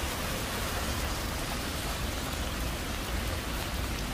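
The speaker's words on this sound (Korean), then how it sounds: "비가 오늘 상당히 많이 오고 있어요." Heavy rain pours steadily onto a city street near Seoul Station, a dense, even hiss of downpour with no pauses and no voices.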